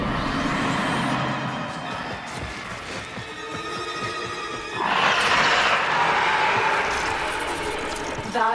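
An Infested Juggernaut monster in the video game Warframe lets out a deep, grinding roar. The roar swells louder about halfway through, over a dense wash of mechanical game noise.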